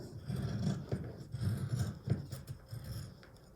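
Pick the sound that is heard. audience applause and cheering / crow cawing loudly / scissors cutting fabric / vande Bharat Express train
scissors cutting fabric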